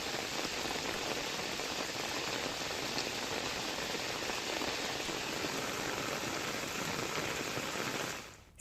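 Steady monsoon rain patters densely and evenly on surfaces nearby, a constant hissing wash that continues unbroken before cutting off abruptly at the very end.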